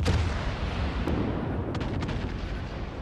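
Heavy naval gunfire pounding a warship in World of Warships, a dense, continuous roar of booming shell impacts and rumble filling the whole stretch, loud and close, with no voices.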